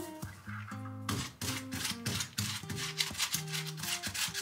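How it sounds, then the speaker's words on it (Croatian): A stain on a cotton t-shirt being scrubbed by hand, a close, steady rubbing rasp in quick repeated strokes, with no voices. "Ja ovo ribam već jako jako dugo, bukvalno me ruka već zabolela"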